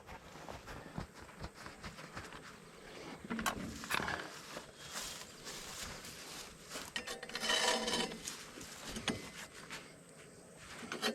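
A hand saw cutting through the exhaust pipe of a Ford New Holland 1715 tractor, rasping back-and-forth strokes close by that build in intensity, with no talking.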